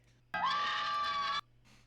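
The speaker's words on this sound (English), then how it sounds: "Why she scream at me like that though?" A woman character in a video game lets out a single sustained high scream lasting about a second, loud and close, cutting off sharply, with quiet background before and after.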